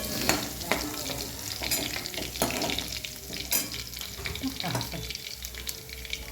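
Garlic frying in a pan gives a busy, crackling sizzle close by, with stirring scrapes and spatters scattered through it that are loudest early and settle later. No one speaks.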